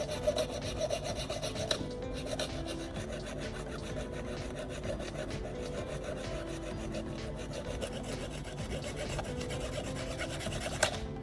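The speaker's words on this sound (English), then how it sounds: "I'll use a simple hacksaw blade against a scrap block of wood to carefully saw off a section." A hacksaw blade rasps back and forth through a scrap block of wood in a steady, gritty rhythm, close and continuous with a brief pause partway.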